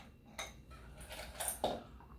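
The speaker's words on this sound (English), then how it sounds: "Now let's put some ice in here and stir it again" Ice clinking against a glass as a cocktail is stirred, a few light clicks and knocks close by, quiet and otherwise alone.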